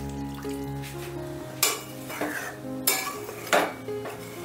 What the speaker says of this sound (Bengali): এবার জলটা দিয়ে একটু নাড়াচাড়া করে নিচ্ছি, মশলাটা মিশিয়ে নিচ্ছি জলের সাথে ভালো করে।